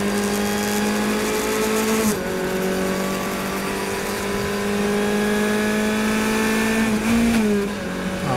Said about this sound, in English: There's one missed upshift.